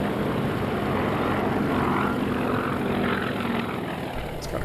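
A Grumman Wildcat FM-2 warbird with a propeller engine flies level past at an angle, a steady broad roar that holds for several seconds and then eases slightly toward the end.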